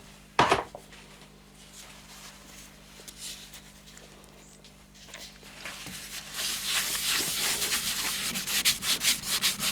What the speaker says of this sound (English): Next stage is to apply some sanding sealer to the bowl, not the outside, just there, and then the old Yorkshire Grit